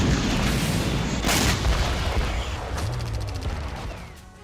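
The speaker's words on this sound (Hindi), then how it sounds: "MLRS से यूक्रेन पर हमला किया गया।" Booming blasts from an MLRS rocket attack in Ukraine, a dense rolling barrage of heavy explosions with sharper cracks layered through, loud and continuous before easing toward the end.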